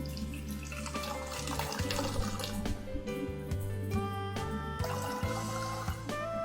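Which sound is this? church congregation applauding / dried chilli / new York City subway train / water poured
water poured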